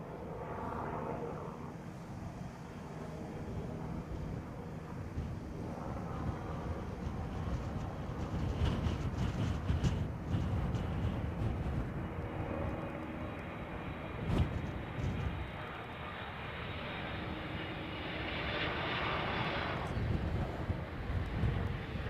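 An airliner comes in to land at London Heathrow, a steady broad roar of jet engines that swells and holds for over twenty seconds, with wind buffeting the microphone outdoors.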